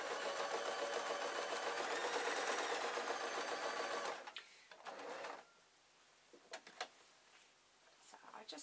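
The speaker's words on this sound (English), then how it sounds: "I'm going to stitch on the stitches and then I'm going to sew around the handle." Sewing machine stitching around a bamboo handle on a fabric knitting bag, running loud and steady for about four seconds, then stopping, followed by quiet handling and a few soft clicks.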